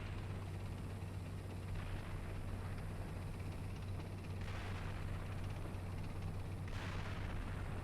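Gunfire and artillery in a military video game, a dull continuous rumbling battle bed with a low steady hum and a couple of muffled bursts, distant and unbroken.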